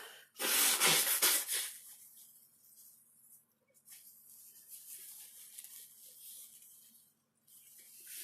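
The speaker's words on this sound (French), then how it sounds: "Je sors la tête de l'écran pour me moucher" A loud, wet nose blow bursts out near the start, followed by quieter sniffing and rustling in a hushed room.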